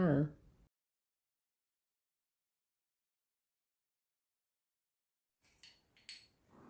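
A utensil scoops stir-fried pad thai with prawns onto a plate, giving brief soft clinks and scrapes against the dish near the end after a short silence, with someone speaking at the very start.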